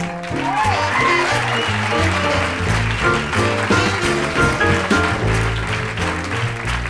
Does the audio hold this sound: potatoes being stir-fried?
no